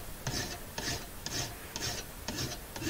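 A file rasps along the edge of a forged iron dagger in six steady strokes, each a short gritty scrape with brief pauses between, close and fairly quiet with no voices.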